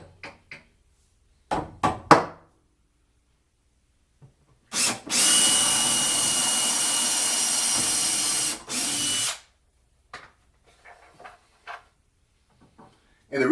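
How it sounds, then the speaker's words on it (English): A power drill bores a pilot hole into wood for a vinyl record shelf, whirring loudly and steadily for about four seconds, bracketed by sharp clicks and knocks of handling before and after. "what I'm going to do now is drill my second pilot hole"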